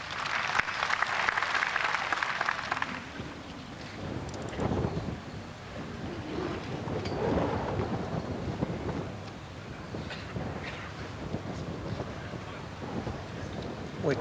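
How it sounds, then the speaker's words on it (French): Strong wind buffets the microphone at an outdoor grass-court tennis final, a steady rushing roar with gusty swells, heard under a commentator's voice and distant crowd noise. "Beaucoup de vent"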